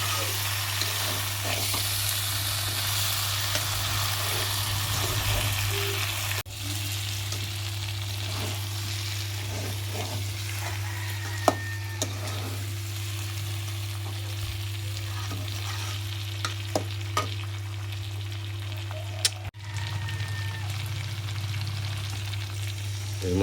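Chicken and potato curry frying and sizzling steadily in a pan after water is added, with a constant low hum underneath and occasional scraping clicks of a spoon stirring, no talking.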